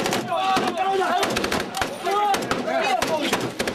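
Gunfire crackles in a rapid, close firefight during a military exercise in Morocco, with repeated sharp bursts of shots and a voice speaking between them.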